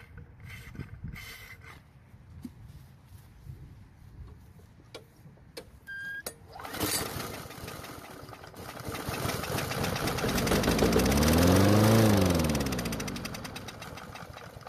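Small Weedeater lawn mower engine firing up after a few quiet clicks, then running and slowly climbing in speed to a loud steady drone before easing back slightly, close by with no talk.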